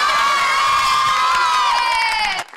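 Audience at a comedic poetry recital cheers and whoops loudly after a rhyming verse, a dense sustained roar of many voices that cuts off abruptly near the end.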